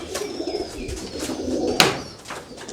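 Dubwale breed pigeons coo close by in a soft, rolling murmur, with a few faint chirps and light rustling in the loft.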